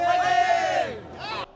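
Crowd of Gangneung High School supporters cheering and shouting at a high school baseball game in Seoul's Mokdong Stadium; one loud, close voice-like cry rises and falls over the crowd, then a second shorter shout before it cuts off.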